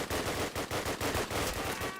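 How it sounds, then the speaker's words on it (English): Automatic gunfire from a multiplayer match on the Hurtgen map comes as a rapid burst of evenly spaced shots, loud and close, running through the whole clip with no voices. "Currently shooting at the guy near A bunker."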